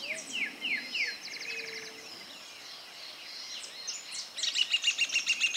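A Capuchino corbatita dominó seedeater calls several times, high thin chirps and rapid buzzy trills up close, with a short pause in the middle and a fast repeated burst at the end.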